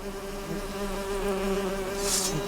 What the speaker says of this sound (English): why is there bees